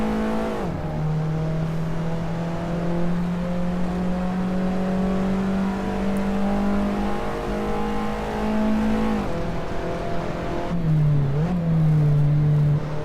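A race car engine in the Assetto Corsa racing game revs loud and steady, climbing through the gears with a brief drop and shift change near the end, no voices.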